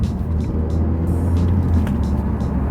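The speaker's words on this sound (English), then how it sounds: "let me demonstrate a non-heel toe downshift, just a normal downshift" Car engine heard from inside the cabin during a normal downshift from fourth to third gear without heel-toe, a steady low drone with a slight shift in tone, fairly loud and continuous, no speech.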